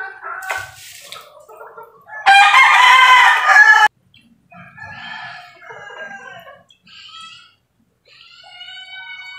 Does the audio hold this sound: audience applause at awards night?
no